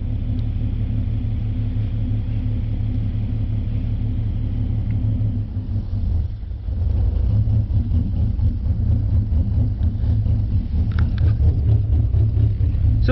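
A V6 Ford Mustang engine idles with an idle chop mod, a loud, close, continuous low rumble that dips briefly partway through before settling back into a steady, throbbing idle.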